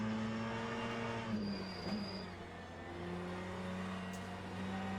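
A pack of P2 prototype race cars and one hypercar in the sim racing game Le Mans Ultimate, heard as steady layered engine drones with shifting pitch as the cars run together in a multi-class race.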